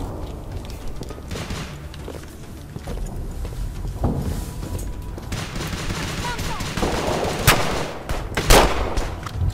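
Gunfire in the WWII shooter game Uprising44, bursts of rifle and machine-gun shots crackling over a busy battle background, growing louder with a few sharp close shots near the end.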